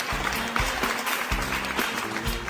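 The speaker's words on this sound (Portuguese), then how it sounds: "Uma salva de palmas especial pra ela também, Gislene Carmona" Applause from a small group on a running podcast, a steady patter of clapping heard alone and close.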